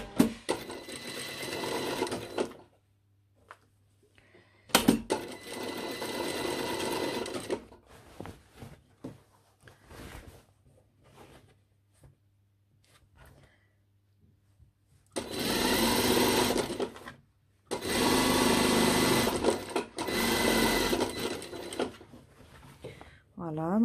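Sewing machine stitching around the back seam of a lined jacket, running in several separate bursts of steady mechanical whirring with quiet gaps between them, and someone talking quietly during the pauses.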